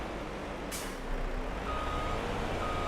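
Truck in Farming Simulator 22 backing up, a steady electronic reversing beep sounding over a low engine drone, with a short sharp air-brake hiss near the start; no talking.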